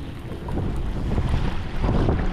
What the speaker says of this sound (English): It's getting a little gusty right now.